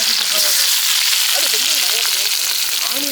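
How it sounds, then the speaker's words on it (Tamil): Chopped onions fry in sesame oil with spices in a pan, cooked outdoors in a village. A steady, dense sizzle runs throughout, with faint voices underneath. "இது கரண்டி வெங்காயத்தை போட்டுக்கலாம்."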